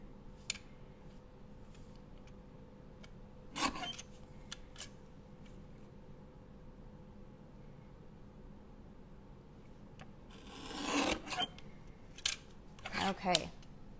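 Scissors trim pieces of card stock for a handmade flamingo wedding card, giving a few short, crisp snips: one brief cut near the start, then a denser cluster of cutting sounds later, close and moderately loud over a quiet room.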